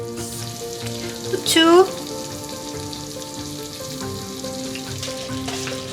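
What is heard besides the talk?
stir-frying gobi namul (bracken) in a pan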